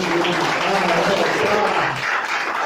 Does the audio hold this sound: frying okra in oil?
no